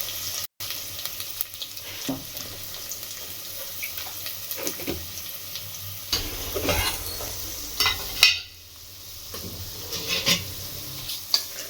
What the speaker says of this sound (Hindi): दाल डाल के इसको ऐसा भूनेंगे